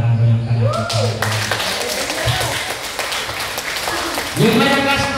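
Congregation applause during a church service, a burst of clapping that rises and fades while a preacher's amplified voice speaks over it.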